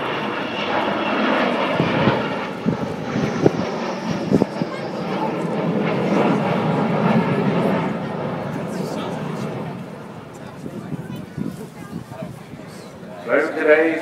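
Avro Vulcan bomber flying at the Southport Airshow, a loud sustained jet roar that swells and slowly fades over the whole stretch, with a faint crowd murmur and a brief rise near the end.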